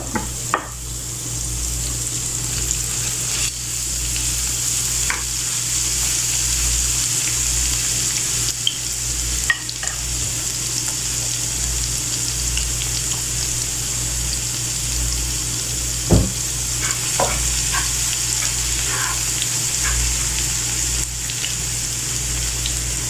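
A steady, gentle sizzle of garlic paste frying in a pan, with occasional faint clicks and stirring sounds, no voices.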